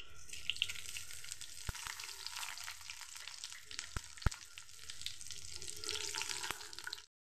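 Dried red chilli, bay leaf, cardamom, cinnamon and panch phoron sizzle steadily in hot oil for a cabbage curry, a continuous crackling hiss with a few sharp clicks of a utensil against the pan, no talking.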